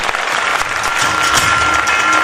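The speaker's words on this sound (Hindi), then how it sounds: "मेरी वाइफ के लिए एक बार जबरदस्त तालियां होनी चाहिए।" A large audience gives a loud, sustained ovation, a dense and continuous wash of clapping that holds at an even level throughout with no voices standing out.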